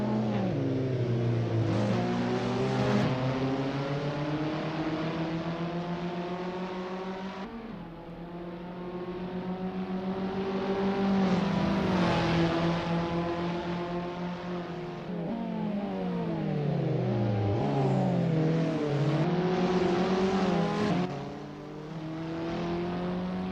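Abarth 500 race cars lapping the Pau street circuit in Assetto Corsa, with a buzzy small engine revving up and falling back through repeated gear changes, loud and continuous, with no talk.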